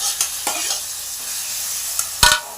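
Mottikaya (veruchikudukaya) chutney mixture being stirred by hand, with a few sharp scraping strokes and clicks against the bowl separated by pauses, close and fairly clear over a faint background hiss.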